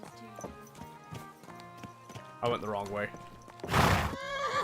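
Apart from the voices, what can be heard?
horse hooves and neighing in a video game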